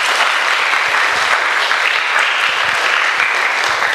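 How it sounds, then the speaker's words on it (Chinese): Audience at a Buddhist lecture applauding to thank volunteers: sustained, dense clapping from a large crowd, steady and loud throughout with no pauses. "我们也给这些义工掌声感谢一下啊"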